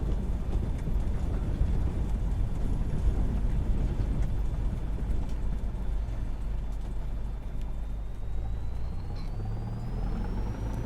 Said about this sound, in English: I love the alternator whine and the tractory sound